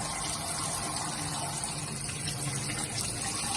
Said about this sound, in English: we get the cold water running, dump the hot water